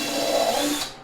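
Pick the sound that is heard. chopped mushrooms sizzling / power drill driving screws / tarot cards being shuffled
power drill driving screws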